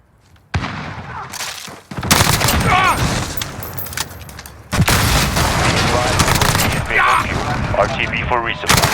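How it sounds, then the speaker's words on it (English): Video game combat with a cruise missile strike: loud booming explosions and dense gunfire bursts, heavy blasts hitting around two and five seconds, with continuous battle noise and radio-style voice chatter throughout. "Cruise missile."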